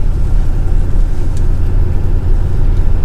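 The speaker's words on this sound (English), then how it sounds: "now the truck's up and running" A pickup truck engine idles with a steady, loud, low droning rumble up close, unbroken and without voices.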